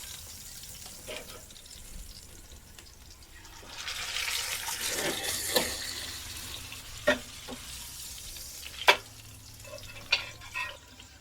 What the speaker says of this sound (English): So this is the searing part on our reverse sear.